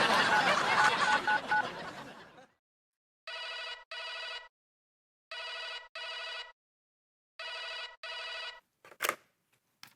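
A telephone rings on an outgoing call, three pairs of electronic trills separated by silent gaps, clear and close, after a stretch of background noise and before a short click.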